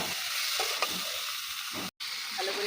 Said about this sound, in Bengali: ভালো করে কষিয়ে নিয়েছি।